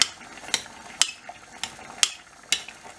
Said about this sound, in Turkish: Makarnamız pişerken bu arada domateslerimizle karıştırıyoruz